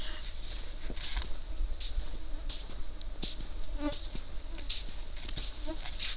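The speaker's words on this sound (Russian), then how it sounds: "Вот такое количество комаров вокруг меня летает." A swarm of mosquitoes whines around a person outdoors on an evening in Yakutia, a steady, close, high buzzing that swells and fades as the insects pass, with no talking.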